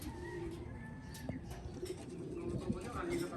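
Pigeons cooing softly in a rooftop loft, low repeated coos over steady background ambience, with a person talking nearby.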